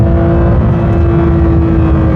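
Lamborghini Murcielago SV engine revving hard, a loud, steady high-pitched roar that holds throughout at close range with no talk over it.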